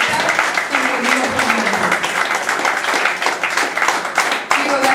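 A church congregation claps and cheers together in a loud, dense burst of applause, with voices and a few shouts mixed into the sustained clapping.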